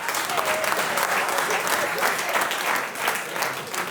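A live audience applauds steadily, a dense wash of many hands clapping at an even level throughout, with some crowd noise mixed in.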